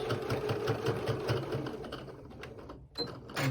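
Sewing machine stitching fabric close by: a fast, steady mechanical whirring and clatter that runs for a few seconds, then slows and briefly stops before starting again.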